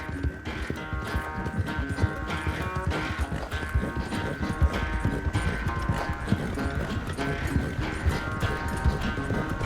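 Horse hooves clip-clop in steady rhythm through Red Dead Redemption 2, a continuous close trotting beat over a bed of game music and ambience, with no talk.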